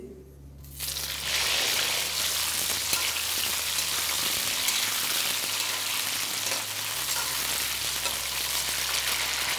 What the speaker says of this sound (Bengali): আবার এই একই তেলে আমি বাকি কপিগুলোও ভেজে নিচ্ছি।